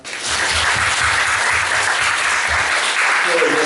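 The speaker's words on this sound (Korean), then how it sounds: "박수 한번 칠까요?" A church congregation claps together during a Sunday service in Seoul, a dense, steady wash of applause that stays loud and even for the whole stretch, with a few voices mixed faintly underneath.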